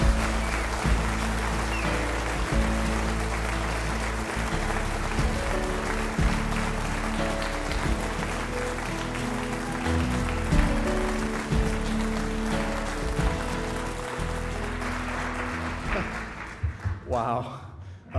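Audience applause for author Patrick O'Sullivan, sustained steady clapping that carries on at an even level for many seconds before tapering off at the end.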